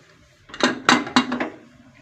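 A metal lid is set onto a pot of simple tamarind curry coming to the boil, giving a few sharp clanks and rattles close by as it settles into place.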